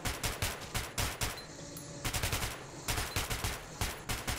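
An overheating gun fires in Metro 2033 Redux, rapid automatic bursts of gunfire rattling in quick succession, with a brief pause midway before shooting resumes.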